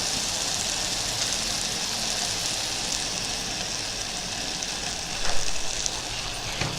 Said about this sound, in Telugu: ఇప్పుడు ఆల్మోస్ట్ బీరకాయ ముక్కలు అవి ఉడికిపోయి ఉంటాయి, వేగిపోతున్నాయండి ఆల్రెడీ.